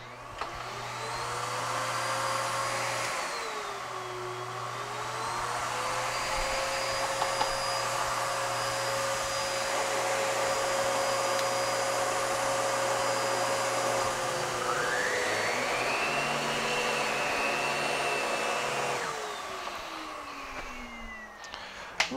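A Miele U1 S7 upright vacuum cleaner runs with a steady motor whine, continuous, shifting pitch partway through and rising higher near the end before winding down, loud and close throughout.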